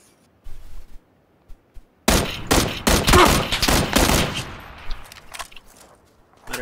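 Gunfire in the battle royale game PUBG, a few scattered distant shots and then a dense, loud burst of rapid overlapping fire that tapers into intermittent bangs, with no talking over it.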